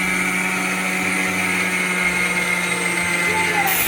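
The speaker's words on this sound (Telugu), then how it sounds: "ఒక కప్పు షుగర్ని కూడా గ్రైండ్ చేసుకుందాం" An electric mixer grinder grinding sugar into powder, a loud steady high-pitched motor whine with a constant hum and rattling low churn, running without pause until a slight change near the end.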